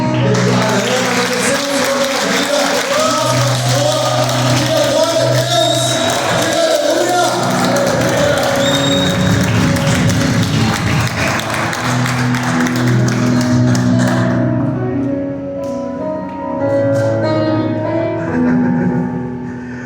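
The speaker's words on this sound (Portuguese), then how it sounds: "palmas bem forte" A church congregation claps loudly and densely together, with shouts and whoops mixed in, before the applause thins out toward the end.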